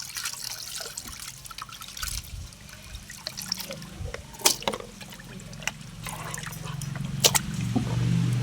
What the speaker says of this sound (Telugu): నీళ్ళు పోయి శుభ్రంగా ఉప్పు పసుపు వేసి కడిగేస్తున్నానండి